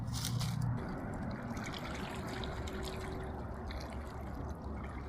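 A powerful Alaskan river rushes steadily nearby, a continuous broadband roar of flowing water with no voices over it.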